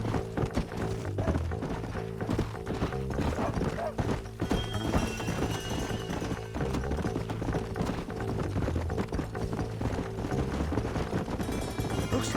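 Horses gallop with rapid rhythmic clip-clop hoofbeats in the Western video game Red Dead Redemption 2, over a steady musical score, with an occasional whinny.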